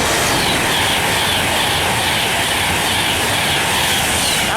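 A Pendolino train passes Cheddington station bound for London Euston, a loud, steady broadband roar and rush filling the whole clip at close range with no talking.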